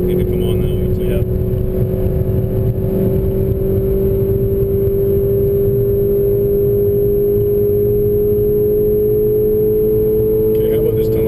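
A car on the Mosport racetrack drones loudly and continuously as it accelerates out of a corner, the engine note climbing gradually and held close throughout.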